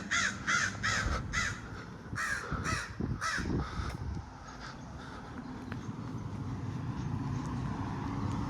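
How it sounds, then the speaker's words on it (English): A crow caws repeatedly in a park, a run of loud, evenly spaced harsh calls over steady outdoor background noise, then the calls stop and only the ambient hum remains. "There's a crow."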